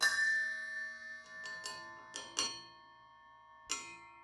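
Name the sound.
cowbells of different pitches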